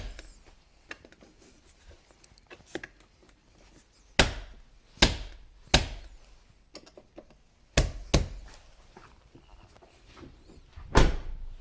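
Front doors of a Jeep Grand Cherokee WK after sound-deadening work, shut several times in a row, each a close, solid thump, with softer handling clicks between the slams.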